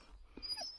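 Sled dogs on an overnight trip in -10°F cold give a brief, soft whimper with a short yip near the end, close by and fairly quiet.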